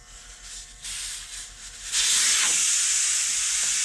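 Air hissing out of a tire on a Graco LineDriver striping machine after the valve core is pulled from the stem, a loud steady rushing hiss that starts abruptly partway through and continues to the end.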